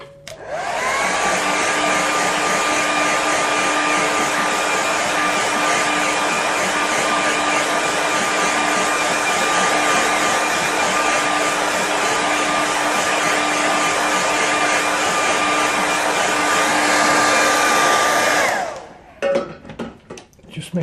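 A hair dryer blows on a landscape painting: a loud, steady whine and airy rush that holds evenly for about eighteen seconds, then cuts off, followed by a few soft handling clicks.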